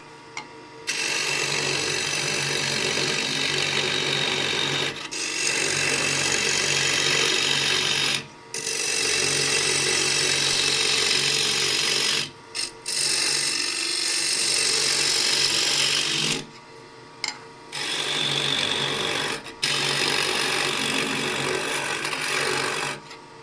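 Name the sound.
hollowing a wooden box on a lathe with ball gouge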